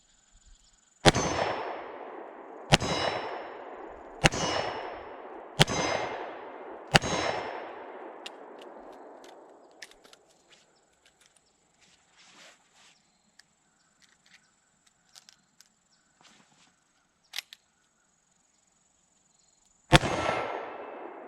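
Ruger LCR .357 Magnum revolver fired at steel targets: five loud, evenly spaced shots with ringing reports, then quiet with faint clinks and metallic handling sounds, and one more shot near the end.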